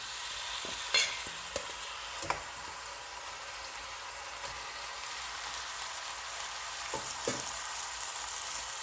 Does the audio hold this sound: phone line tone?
no